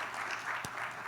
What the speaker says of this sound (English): can we have a huge round of applause on that